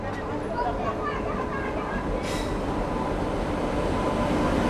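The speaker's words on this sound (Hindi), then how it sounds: "अपनी ट्रेन आ रही है प्लेटफॉर्म नंबर 1 पर बर्धमान जंक्शन के।" An Indian Railways train hauled by a WAP-7 electric locomotive rumbles steadily into Barddhaman Junction platform, a continuous moderate roar of wheels and carriages with a brief hiss, a voice talking faintly over it.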